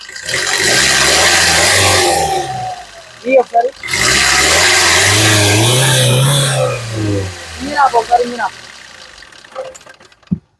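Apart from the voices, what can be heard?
diesel car engine revving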